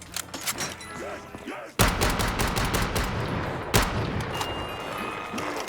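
Gunfire in Call of Duty: Black Ops 3, with dense bursts of rapid shots and sharp cracks that repeat and overlap in a loud, continuous stretch.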